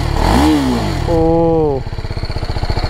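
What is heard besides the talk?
motorcycle exhaust revving at full throttle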